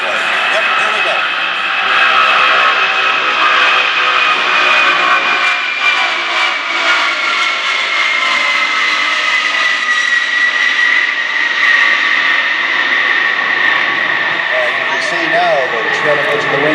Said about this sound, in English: A go around by the C-5 Galaxy.